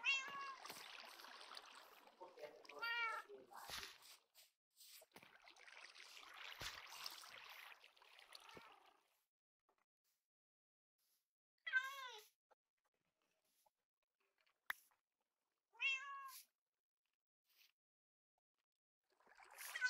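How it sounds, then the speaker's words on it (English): Cats meowing in the block-building game Minecraft, several distinct meows in clusters, some overlapping near the start, then isolated calls spaced apart with silence between, fairly close and clear. "So one cat over here, another cat over here."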